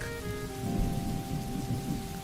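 Heavy rain pours continuously while a low rumble of thunder rolls underneath, swelling and fading, with a faint tonal hum in the background.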